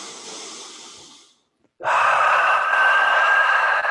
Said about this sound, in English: Big inhale, exhale.